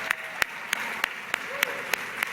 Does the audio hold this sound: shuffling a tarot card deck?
no